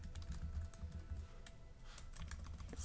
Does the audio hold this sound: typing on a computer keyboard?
yes